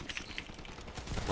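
Machine pistol gunfire in the online shooter Dirty Bomb, a steady rattle of rapid shots layered over game noise across the whole short stretch.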